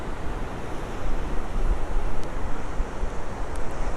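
Sea waves wash steadily below a Norfolk cliff top, a continuous broad surf roar mixed with wind buffeting the microphone, with no voices.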